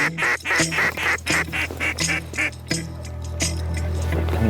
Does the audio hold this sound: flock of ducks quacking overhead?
yes